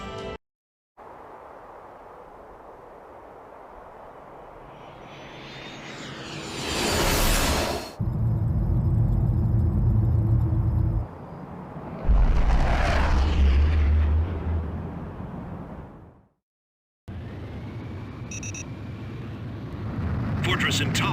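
Jet aircraft engine in the Ace Combat video game, a loud sustained roar that swells and whooshes in long sweeps, broken by brief silent gaps, with game voices heard over parts of it.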